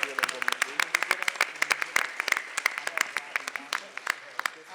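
Clapping from an audience at a city council meeting, a loose scattering of sharp, distinct hand claps at an uneven rhythm that sounds like a modest group rather than a full roar, continuing for several seconds.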